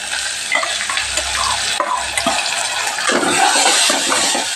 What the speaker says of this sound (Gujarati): અને અહીંયા હવે આપણે દાળ પણ ઉમેરી દઈશું